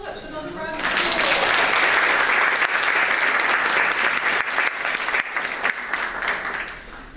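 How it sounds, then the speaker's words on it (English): An audience at an awards ceremony breaks into sustained, loud applause after a brief voice at the start, with dense clapping that continues and fades slightly toward the end. "Another round of applause."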